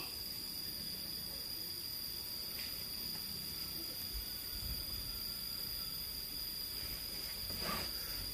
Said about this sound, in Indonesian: Kayak tonggeret itu ya?